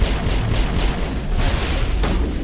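A big explosion in the sci-fi video game Mass Effect, a loud, dense roar of booming blasts and rumble that fills the whole stretch without letting up.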